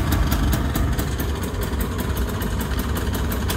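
A 1994 Piaggio Ape 50cc two-stroke three-wheeler van idles nearby with a loud, rapid, buzzing putter that stays steady throughout.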